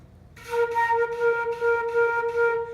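A flute sustains a single note in a run of uneven, smudged repeated articulations, tongued incorrectly on the lips, the attacks blurred and breathy instead of clean, heard up close.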